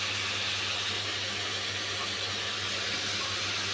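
Ginger garlic paste hitting a hot pan for chicken curry, giving a steady, close hiss of frying that holds evenly throughout with no talking.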